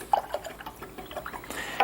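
Small splashes and drips as a paintbrush is rinsed in water during an acrylic sky painting session, with a few brief quiet sloshes, close and soft, and no voices.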